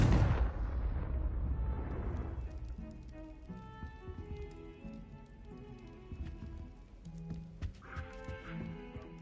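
A Confringo fire spell explosion in Hogwarts Legacy, a loud booming blast at the start that rumbles and decays over a couple of seconds, followed by quieter tonal game sounds and scattered light clatter.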